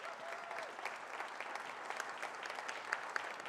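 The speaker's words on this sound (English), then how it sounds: "Let's give them a round of applause." A gala audience gives a steady round of applause, dense and even for several seconds at moderate distance, with no speech over it.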